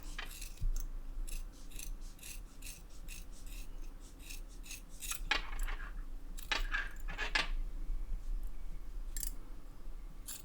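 Scissors snip the loose thread ends of a handmade beaded tassel, giving a series of close, crisp cuts and light rasping scrapes spread across the passage with brief pauses between them.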